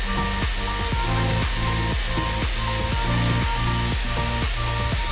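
A Dyson Airwrap hair styler blows cool air in a loud, steady rushing whoosh, broken by a regular series of sharp clicking pulses that repeat about every half second, close up and without talk.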